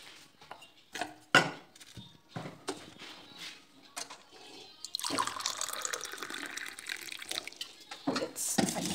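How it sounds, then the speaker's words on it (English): Water is poured into a glass at home during a morning routine, first as scattered clinks and drips, then a steady splashing pour for several seconds that ends in a few more clinks. "Let me pour some water for myself"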